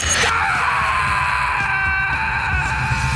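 Rob, a character from the cartoon The Amazing World of Gumball, lets out a long, sustained, anguished scream while falling into a dark abyss, loud and steady throughout.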